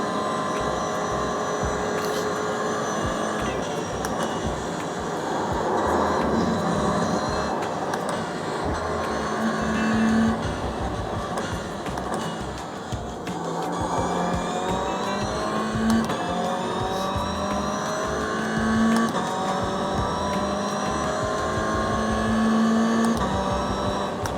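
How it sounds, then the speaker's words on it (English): A rear-wheel-drive car on a track, on cold tyres, drones steadily for the whole stretch, its engine pitch rising and falling through gear changes, while someone talks over it. "So this car actually handles quite nice. It's not too fast, rear-wheel drive."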